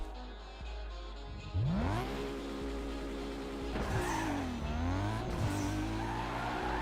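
A car in Need for Speed: Underground 2 revs its engine, with pitch sweeping up through the gears, while tires squeal and skid in loud bursts. The engine drone runs steadily throughout, close and prominent, with no talking.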